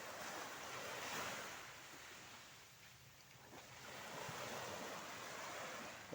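Ocean waves washing ashore at White Beach in Liloy, Zamboanga del Norte, a soft continuous surf hiss swelling and easing with light wind, fairly faint and with no voices.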